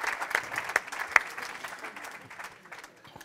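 Audience applause at a literary festival talk, a sustained crowd of clapping hands with a few sharp louder claps early on, gradually thinning and fading toward the end.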